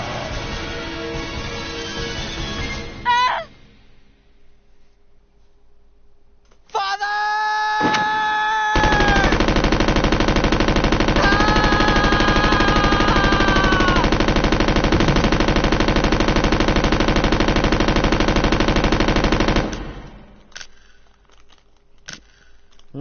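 Sustained automatic gunfire in Resident Evil Code Veronica: a loud, dense, continuous stream of shots held for about ten seconds, preceded by quieter game sounds and a voice, then cutting off abruptly to near silence.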